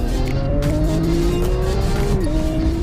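A Lamborghini Aventador S Roadster and a McLaren 720S Spyder accelerate hard in a drag race, engines roaring loudly with rising pitch and a distinct gear shift near the end, tires squealing.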